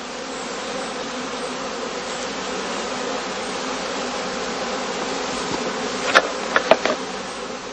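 Honey bees buzz steadily around a heather skep apiary while a colony goes queenless, a dense continuous drone with a few louder individual bees passing close near the end.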